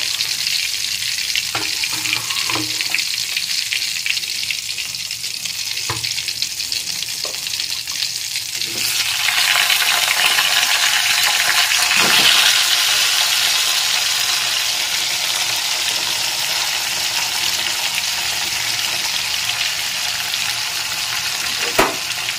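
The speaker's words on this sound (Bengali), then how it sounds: "এখন সবজিগুলোকে একটু ভালো করে ভেজে নিচ্ছি।" Beans, potatoes and spring onions sizzle in hot oil for a rohu fish curry, a steady broadband frying hiss with occasional stirring clicks, growing louder and denser partway through, close and without talk.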